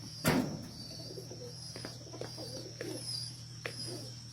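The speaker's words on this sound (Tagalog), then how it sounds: "Yan ang mga alaga ko yung ano, kalapati." Pigeons coo softly and repeatedly nearby, with a sharp knock early on and a steady background hum.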